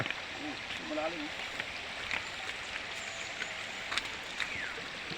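A shallow river flows with a steady, soft rushing wash while people talk nearby over the water.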